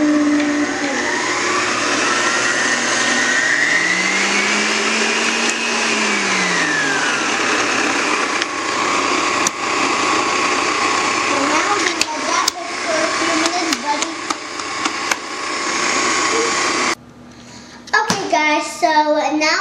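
An electric hand mixer whirs steadily through brownie batter, its motor pitch swelling and dipping as speed changes, loud and close, then cutting off abruptly near the end as a voice speaks.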